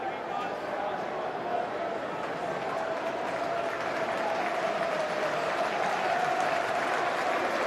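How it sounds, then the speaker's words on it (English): Steady, sustained applause from a rugby league crowd at the ground during a Super League match between Salford and Hull KR, a broad wash of clapping that fills the whole stretch at an even level with faint voices mixed in. "Well, you heard the applause there from the ground."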